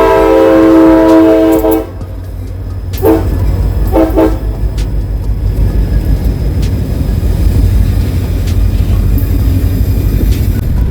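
A CSX freight train with locomotives, near Charlotte, North Carolina, sounds a loud, sustained horn blast, then shorter horn toots, while the heavy rumble of the passing locomotives and rolling freight cars continues steadily and close.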